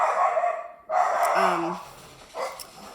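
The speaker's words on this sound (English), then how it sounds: "My dogs were barking." A dog barks a few times nearby, sharp yips breaking through between short pauses.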